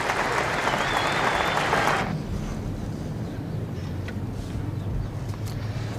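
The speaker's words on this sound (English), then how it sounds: "Just listen to the applause from this crowd for Jeff Thompson" Cricket crowd at a 1974 Australia versus England Test match applauding bowler Jeff Thompson, a dense broad wash of clapping for about two seconds that cuts off into low crowd murmur and wind noise.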